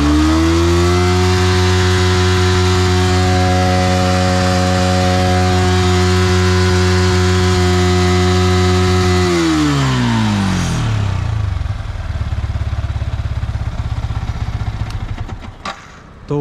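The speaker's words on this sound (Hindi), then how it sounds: "मैंने इसको 8 से 9000 RPM पे रैव किया था" A Yamaha R15 V3 motorcycle engine held at a loud, steady high rev of about 8000-9000 RPM for roughly nine seconds, then dropping quickly back toward idle with a falling whine and a lingering rough rumble.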